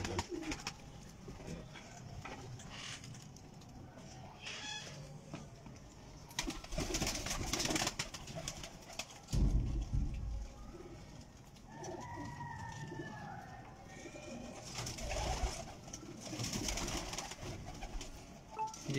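Pigeons coo in a loft during a visit to pigeon keeper Ustad Saleem, soft throaty calls repeating through a steady murmur of room noise, with a few louder bursts of handling and movement nearby.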